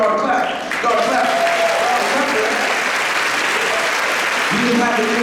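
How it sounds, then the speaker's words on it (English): An audience of school staff claps at an all-staff celebration, a full, steady round of applause lasting several seconds, with a voice speaking over the start and end. "That's where y'all are to clap."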